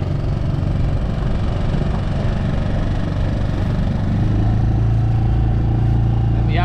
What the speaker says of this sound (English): And the outboard's working.